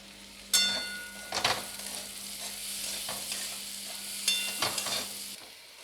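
Whole garlic cloves and chopped onion fry in a pan, with a steady sizzle broken by several louder scraping bursts as they are stirred, close and clear with no talking.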